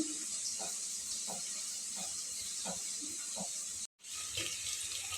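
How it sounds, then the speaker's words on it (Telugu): Water is poured into a pan of fried semolina while making upma with koya thotakura (amaranth greens), a steady hissing splash running for several seconds, briefly cutting out near the end, with no talk. "ఇలా మంచిగా ఫ్రై అయిన తర్వాత నీళ్ళు పోసేసుకుందాం"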